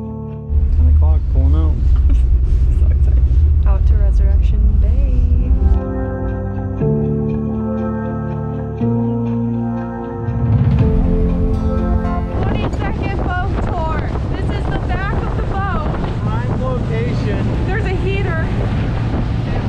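A steady, loud, low rumble fills the air aboard a tour boat in Kenai Fjords near Seward, Alaska, with wind buffeting the microphone and people talking over the drone.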